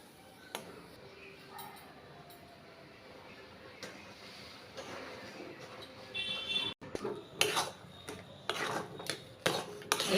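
Semolina is stirred little by little into milk in a karai, quiet at first, then a run of brisk scraping and clinking strokes against the pan, close up.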